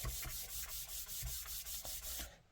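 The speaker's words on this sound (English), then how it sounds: "So, let's give it a good burnish." Gilding flakes on a Gelli plate print are burnished by hand with a steady, rhythmic back-and-forth rubbing, about ten close strokes in quick succession that stop abruptly at the end.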